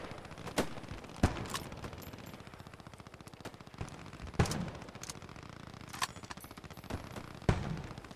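Gunfire in the World War II shooter Post Scriptum during a barn assault: scattered sharp shots cracking at irregular intervals, some close and loud, others more distant, over a steady background rumble with no talk.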